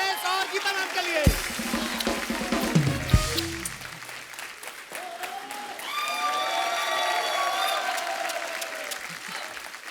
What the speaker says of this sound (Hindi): यो, जोरदार तालियां मलाइका, टेरेस और गीता मैम के लिए